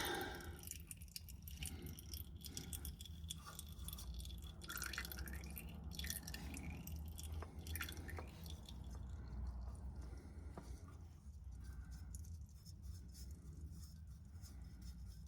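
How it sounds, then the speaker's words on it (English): Engine oil dripping from a loosened filter on a Jeep TJ into a drain pan, faint intermittent drips and small wet splats close by in an otherwise quiet garage, with no talk. "We're gonna let that drip for just a minute."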